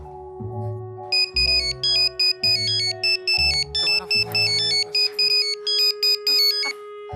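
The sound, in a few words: phone ringtone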